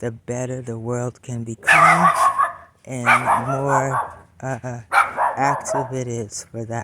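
A dog barks in a residential neighborhood: short, loud bursts of barking come from nearby while a person keeps talking over them.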